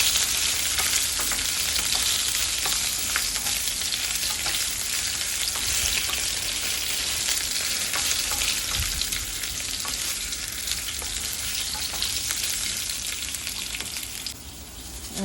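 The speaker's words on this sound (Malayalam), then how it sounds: "എന്നിട്ട് നന്നായിട്ട് സോട്ട് ചെയ്യുക. പൊട്ടറ്റോ നല്ല ഗോൾഡൻ ബ്രൗൺ ആവുന്ന വരെ" Potatoes sauté in a hot pan until golden brown, with a loud, dense sizzle and frying crackle close by and occasional stirring scrapes, and no one speaking.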